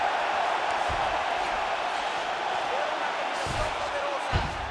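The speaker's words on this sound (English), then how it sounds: "you heard the crowd pop after that grueling ground battle" An arena crowd at a UFC Fight Night women's bout cheers in a loud, continuous roar after a ground battle, with a few thuds and a commentator's voice underneath.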